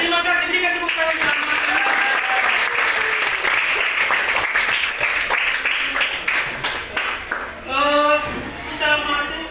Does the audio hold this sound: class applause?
yes